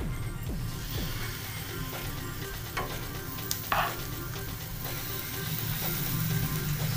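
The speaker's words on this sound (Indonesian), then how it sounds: "sekarang ini minyaknya udah matang ya. Kita masukin aja si adonan" Steady hissing sizzle of mini egg omelette batter frying in hot oil, continuous throughout with a few soft clinks and taps mixed in.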